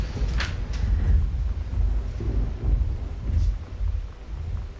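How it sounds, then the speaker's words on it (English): Loud thunder rumbles in the exploration game Gone Home, deep rolling peals rising and falling over steady rain, with a couple of sharper cracks. Nobody talks. "Thunder in this game is so loud."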